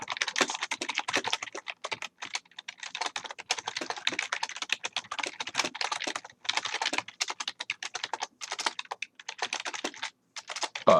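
Rapid, continuous typing on a computer keyboard while a thank-you letter is composed, close and clear, with dense clattering keystrokes in irregular bursts and brief pauses, no voices.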